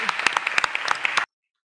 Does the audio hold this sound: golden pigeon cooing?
no